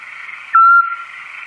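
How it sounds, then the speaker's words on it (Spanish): A Eurasian scops owl gives a single clear, pure whistled note, brief and steady, over a constant band of background hiss. "Es un autillo europeo."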